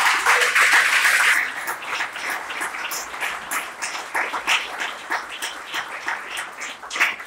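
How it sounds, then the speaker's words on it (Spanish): Audience in a church service applauding the glory of the Lord, dense loud clapping at first that eases into a thinner, steady patter of hands. "Vamos a darle un aplauso a la gloria del Señor."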